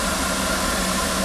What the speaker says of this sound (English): this huge engine's being turned by two men